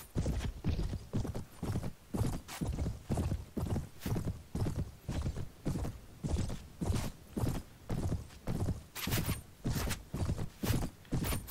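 Horse hooves clip-clop in the medieval combat game Mount & Blade, Prophesy of Pendor mod, in a steady, evenly spaced beat that runs throughout, with a faint neigh at times.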